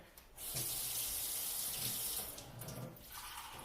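Filtered tap water runs in a steady, close stream for a few seconds, then eases off as it fills a measuring cup.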